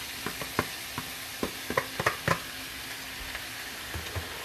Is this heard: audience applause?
no